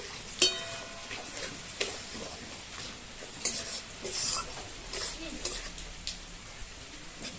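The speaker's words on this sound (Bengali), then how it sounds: "অল্প একটু জল দিচ্ছি।" Ginger-garlic spice paste frying in a pan as a little water is added, giving a soft sizzle with occasional clinks and scrapes of a spoon, faint and close, with a voice talking quietly over it.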